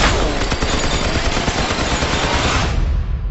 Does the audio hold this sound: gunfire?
yes